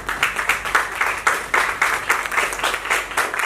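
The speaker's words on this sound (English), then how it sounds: "I would like all of you all to give a big round of applause to the team." Audience applause for a hospital transplant team at a Glenaeagles Hospital Mumbai event, a steady wash of many hands clapping with rhythmic swells, fairly close and continuous throughout.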